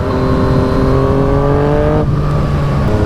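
Yamaha FZ-09 motorcycle engine revving hard through rising tones, with a quick-shifter gear change cutting in abruptly before the pitch climbs again, loud and close.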